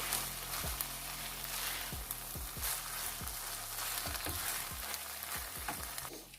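Chicken filling with milk is stirred in a hot pan, a steady close sizzle broken by a string of soft taps and scrapes from the utensil, with no talking.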